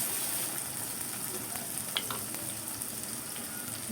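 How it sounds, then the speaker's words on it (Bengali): Onion fries in a pan on a stove, giving a soft, steady sizzle at low volume with a couple of faint clinks partway through. "চুলা পেঁয়াজটা বসাই দিলাম।"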